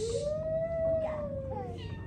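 A single drawn-out, rising-then-falling cry like a cat's yowl, fairly clear, with faint background noise and no talking.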